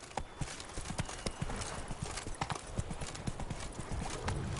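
The horse Roach walks in a video game, its hooves clip-clopping in a steady, close rhythm against a constant background hum.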